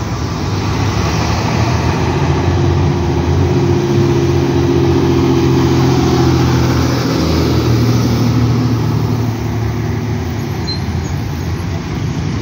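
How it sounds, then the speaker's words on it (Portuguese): A city bus in São José dos Pinhais, Paraná, probably a Mercedes-Benz OF-1315, rumbles past with a deep, steady engine roar, loud and close for the whole stretch amid general street noise. "Vamos ouvir o ronco do motor quando ele passar."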